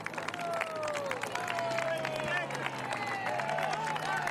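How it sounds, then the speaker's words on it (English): Roadside spectators cheering and clapping for a cyclist racing past at the Amstel Gold Race, a continuous crowd roar with whistles and shouts under a commentator's voice. "Mercato getting the plaudits of the crowd."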